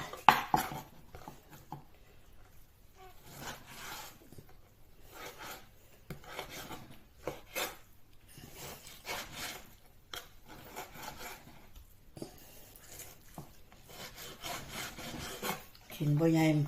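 A knife slices pork belly on a cutting board, with repeated soft scraping and chopping strokes in an irregular rhythm, close but quiet, with faint background noise.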